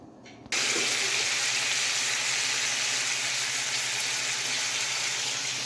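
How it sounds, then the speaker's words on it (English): Bacon and eggs frying in a home pan: a loud, steady, hissing sizzle that starts suddenly after a short quiet moment and holds evenly to the end, with no talk over it. "I'm about to start me some bacon and eggs too"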